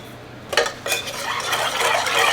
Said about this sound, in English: Give that a good mix.